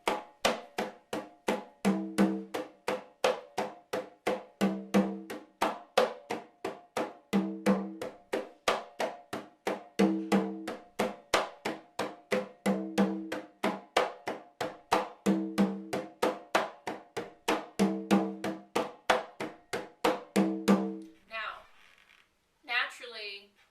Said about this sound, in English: the tumbao in completion sounds like this.